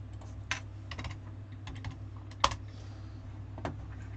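Keys of a computer keyboard being typed on in a few sparse, irregular clicks and short bursts, close and fairly crisp, over a steady low room hum with no talking.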